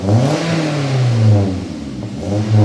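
Car engine with a newly fitted exhaust revving up and down in a few rising and falling pulls, a loud, close, throaty roar with some clatter between revs.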